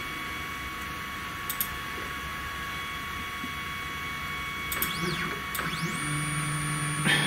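An eBay 3018 CNC router engraves at a higher feed rate, giving a faint steady whine with tonal hums, and rising and sweeping pitches toward the end as the motors change speed.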